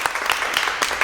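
Brief applause at a church Sunday school service for the teacher, a short burst of close clapping with a few distinct claps.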